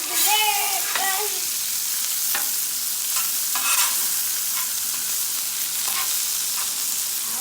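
Onions and burgers frying on a Blackstone griddle give a steady close sizzle, with a few scrapes and stirring clicks from a spatula throughout.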